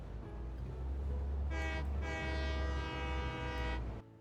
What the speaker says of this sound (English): Alright, I can take a train back now at least. That'll be fun. Our first train ride.